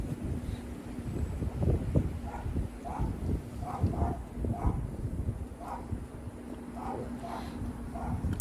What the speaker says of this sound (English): Come on, wind. I'm trying to do a review here.